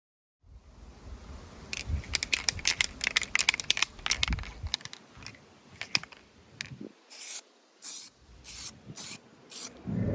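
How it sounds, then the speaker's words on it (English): Brake cleaner is sprayed to degrease the case of a Cobra 148 GTL CB radio: close rattling and handling noises come first, then several short, sharp hissing spray bursts in a row. "degrease it with the brake cleaner"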